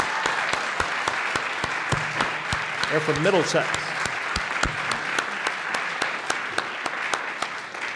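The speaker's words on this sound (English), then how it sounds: "So let's give them a round of applause." An audience claps at a fiddlers variety show during a maple festival, a sustained round of applause with some sharp, close claps, while someone speaks briefly over it.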